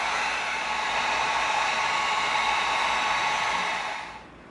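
A heat gun seals beveled EVA foam with a steady, loud, close blowing hiss that holds even for about four seconds, then drops away at the end.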